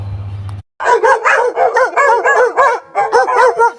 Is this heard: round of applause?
no